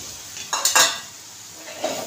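A spoon stirs bottle gourd sabzi with soaked chana dal in a pan, a few quick scraping clinks over a faint sizzle in a short burst, then quiet.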